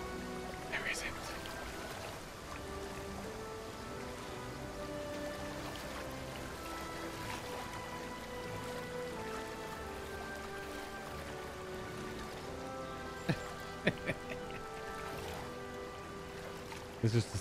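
A steady waterfall rushes continuously in Final Fantasy VII Rebirth, a dense wash of falling water beneath layered game music, with a few brief sharper accents near the end.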